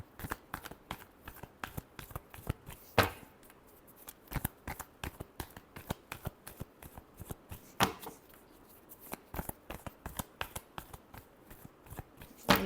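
Tarot cards are shuffled by hand repeatedly, giving rapid crisp riffling snaps and slaps in an uneven rhythm, close and moderately loud, with no talking.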